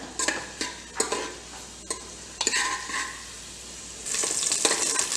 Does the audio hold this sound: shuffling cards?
no